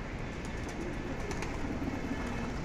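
Pigeons perched on a rooftop after rain give soft, low coos over a steady, loud background wash.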